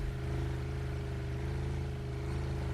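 A motorboat engine drones steadily as the boat drives over waves toward an island shore, a loud, continuous low hum with a pulsing rumble and no breaks.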